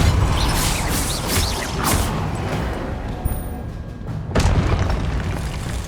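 Spell impacts in the video game Hogwarts Legacy sound as loud rumbling booms and crashing blasts that swell and fade, with a sharp burst about four seconds in, and no voices heard.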